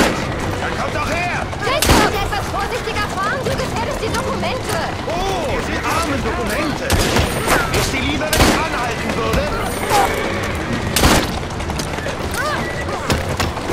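Gunfire in the Assassin's Creed Syndicate video game, with repeated sharp shots at irregular intervals over steady game noise and someone talking throughout.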